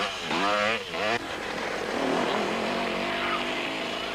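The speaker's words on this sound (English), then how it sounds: "the nuggety Cox, mounted on the Castrol Pro Action KTM, took the overall win" Enduro motorcycles, KTM and Kawasaki, racing in the Settlers 400 event in 1994, engines droning loudly with rising and falling pitch as bikes pass, under a continuous spoken voice.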